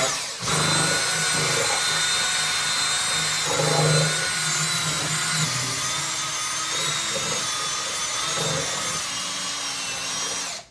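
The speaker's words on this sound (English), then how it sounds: "So now we're going to go ahead and mix the grout and start grouting." Grout for kitchen wall tiling is mixed with a power drill, making a steady close whine that runs for about ten seconds, with slight changes in pitch and load as the paddle turns through the mix.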